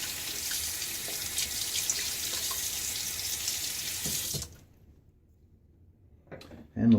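Water runs steadily from a tap into a sink while a wet shaver rinses his face and razor, a close, even rush that stops abruptly partway through, followed by a few faint handling sounds.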